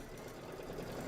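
A sewing machine stitches flower designs with a steady, soft mechanical hum and faint rapid clatter, continuous and even throughout with no pauses, heard alone and fairly quiet.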